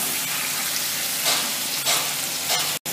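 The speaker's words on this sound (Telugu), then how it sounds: "ఈ వెల్లుల్లిపాయ కూడా వెల్లుల్లిపాయ ముక్కలు కూడా వేసేస్తున్నాం ఈ ఆలు కూడా వేసేస్తున్నాం" Garlic pieces and potato chunks frying in a pan for a homemade aloo biryani, giving a steady close hiss of sizzling oil with a few brief stirring scrapes and no talk.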